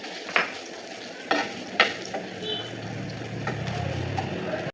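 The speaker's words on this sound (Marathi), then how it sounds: "तर मी ओल्या खोबऱ्याचा जो किस होता तो परतून घेणार आहे 5 मिनिटासाठी" Grated fresh coconut sautéed in homemade ghee in a pan, giving a soft steady sizzle with a few sharp scrapes of a spoon against the pan near the start.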